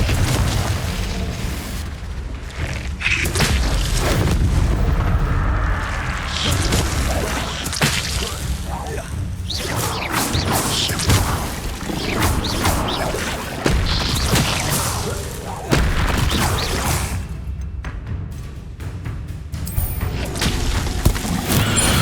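Confringo and Incendio spell blasts from Hogwarts Legacy, a continuous stretch of booming fiery bursts, whooshes and impacts layered over a rumbling game soundtrack, loud and dense for over twenty seconds.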